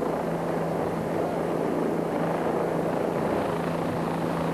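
A helicopter working on live power lines drones loudly and steadily throughout, its rotor and engine roar constant and close, with a low steady hum underneath.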